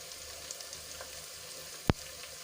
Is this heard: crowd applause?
no